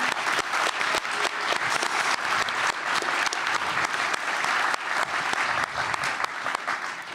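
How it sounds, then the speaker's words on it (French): Crowd at a French political gathering claps vigorously and cheers, a loud, dense, continuous burst of applause with crisp individual claps throughout. "je vais vous demander de les applaudir pour commencer, et même de faire du bruit pour eux"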